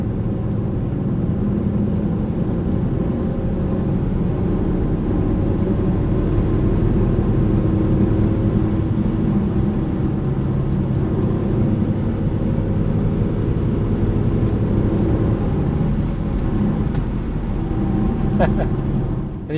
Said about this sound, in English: Love that N52 engine.